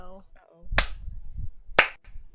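Two slow, deliberate hand claps about a second apart, sharp and close, imitating a tabletop game character's sarcastic slow clap, with speech before and between them.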